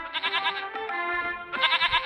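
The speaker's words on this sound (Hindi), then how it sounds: "बकरी। इसे भी चिल्लाने के लिए कोई दूसरा समय नहीं मिला है।" A goat bleats loudly and close in long, quavering calls, one sustained cry running into another with a brief break, heard alone without any talking.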